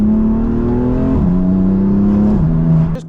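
A BMW M240 accelerating around a roundabout, its engine droning loud and steady from inside the cabin, with the pitch climbing, then dropping at two gear shifts before easing off at the end.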